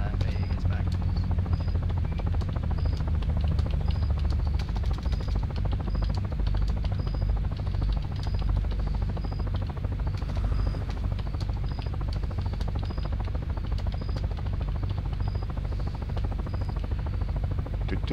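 A steady, loud helicopter rotor drone fills the whole stretch, with faint talk occasionally under the constant engine noise.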